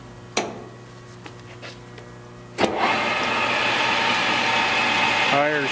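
A 16 by 30 inch Victor lathe spins up, a sharp clunk followed by a steady, fairly loud whirring hum that rises slightly as the spindle speed increases, ending in a brief squeal.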